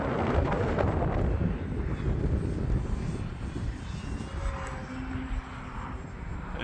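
An E-flite Extra 300 RC airplane flies in windy conditions, its engine a steady droning buzz under heavy rumbling wind noise on the microphone, moderately loud throughout without any talking.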